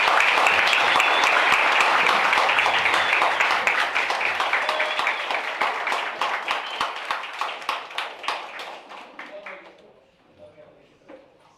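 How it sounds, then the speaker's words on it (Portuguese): An audience applauds a professor, a loud sustained round of clapping that gradually thins into distinct individual claps and fades out near the end. "Então eu queria que vocês dessem uma salva de palmas ao nosso professor"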